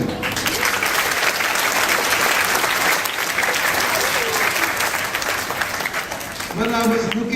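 Sustained applause from a school audience honouring teachers and a drill master, dense steady clapping filling the room from start to finish, easing briefly near the end before picking up again.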